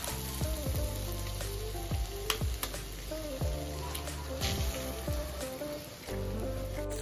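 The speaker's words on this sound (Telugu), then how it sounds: "ఇట్లా ఆయిల్ వేసుకొని అల్లం వెల్లిపాయ వేసుకున్న తర్వాత ఎగ్స్ వేసుకోవాలి. కొంచెం ఫ్రై కానివ్వాలి ఇవి." Eggs fry in oil with ginger and garlic, giving a soft continuous sizzle broken by repeated clinks and scrapes of a utensil against the pan.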